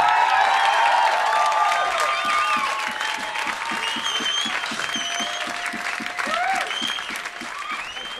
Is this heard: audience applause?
yes